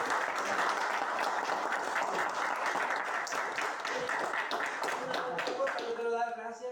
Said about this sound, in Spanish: Un fuerte aplauso a nuestro